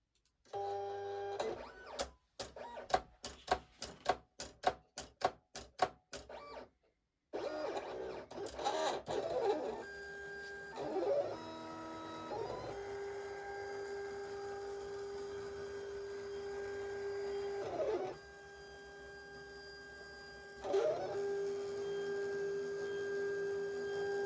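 A Silhouette Cameo 4 cutting machine cuts a simple wallet pattern, its motors whirring and buzzing in quick stuttering bursts before settling into steadier humming runs of changing pitch, heard close with no talk.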